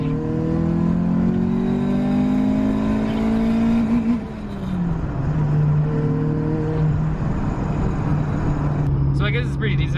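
A high-compression Honda B18 engine revs up and holds a droning rpm, then drops and settles to a steady hum, loud and close, with a voice talking over it.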